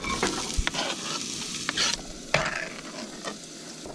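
Onions hitting a hot pan while truck camping in the snow, giving a steady close sizzle with stirring clatter and a few sharp scrapes across the clip, no talking.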